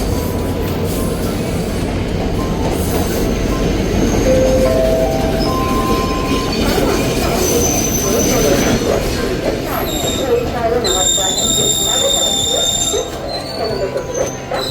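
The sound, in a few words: Udaya Devi Express train arriving at Polonnaruwa station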